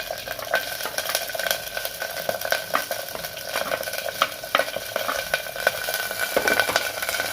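Small onions and garlic fry in a pan with a steady close sizzle, punctuated by frequent stirring scrapes and clinks throughout.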